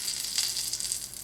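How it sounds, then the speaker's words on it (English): Melted butter in a Wagner cast iron skillet gives off a steady, soft sizzle that continues evenly without pauses. "I have 2 tablespoons full of butter melted here"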